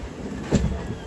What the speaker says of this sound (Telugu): ట్రైన్ మొత్తం షేక్ అయిపోతుంది తెలుసా మొత్తం ఈ స్పీడ్ లో